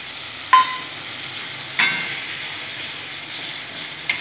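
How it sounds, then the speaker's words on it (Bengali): Spices sautéed with a splash of water in a pan, a steady soft sizzle broken by three sharp spoon scrapes and clinks against the pan, close and alone without talk. "ভালো করে কষে নেব"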